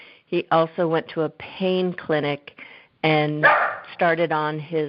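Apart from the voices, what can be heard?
dog barking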